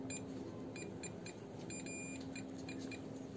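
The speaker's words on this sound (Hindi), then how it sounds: "अब जब मैं पीछे जाने वाला जाता हूँ तो इसकी बीप कम हो जाती है" A Hyundai Santro's rear parking sensor sounds its warning, a string of faint, evenly spaced electronic beeps over a low steady hum with no talk.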